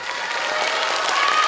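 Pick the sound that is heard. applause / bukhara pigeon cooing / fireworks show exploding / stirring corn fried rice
applause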